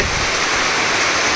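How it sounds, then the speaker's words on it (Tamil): Heavy rain pours down in a dense, steady roar that fills the whole clip. It sounds close and loud, and no voices or other sounds break through it. "ஃப்ரெண்ட்ஸ் மழை செம்மையாக பெய்ய ஆரம்பிச்சிருச்சு"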